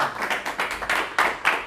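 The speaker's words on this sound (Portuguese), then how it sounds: "Uma salva de palmas para Jesus." Scattered clapping from a church congregation applauding for Jesus, a short burst of uneven individual claps, fairly close and without talk.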